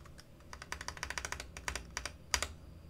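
Quick bursts of typing on a computer keyboard, a dozen or so close, crisp key clicks in an uneven rhythm, quiet and alone without any talk.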